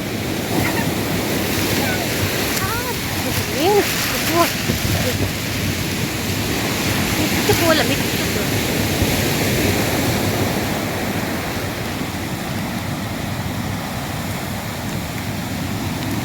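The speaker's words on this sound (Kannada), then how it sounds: "ಕಡಲ್ ತುಂಬ ರಫ್ ಉಂಟು ಇವತ್ತು" Rough sea waves roar and crash continuously nearby, a loud churning surf with brief faint tonal sounds in the first half.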